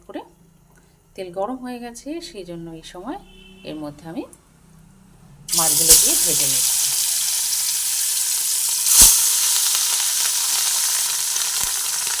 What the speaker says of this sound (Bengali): মাছগুলোকে দিয়ে ভেজে নিচ্ছি